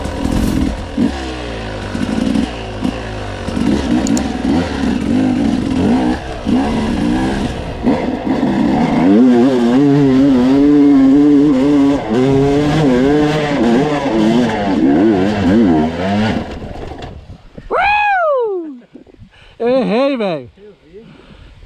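A motorcycle climbs the steep Morro da Cachoeira hill, its engine revving loudly and straining with wavering pitch for about seventeen seconds, then cutting out before two short rising-and-falling rev bursts.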